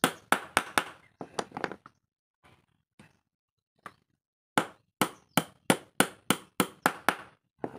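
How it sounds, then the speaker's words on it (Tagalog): Sharp metal hammer blows strike a lock on a motorcycle axle shaft, coming first in a quick burst, then scattered single knocks, then a rapid run of about ten evenly spaced loud strikes. "Tapos saka natin pukpukin para matanggal yung lock at malihan natin yung ehe."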